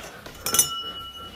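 Crystal glass tumblers tapped together, giving a brief bright clink with a short ringing tail, close and fairly quiet.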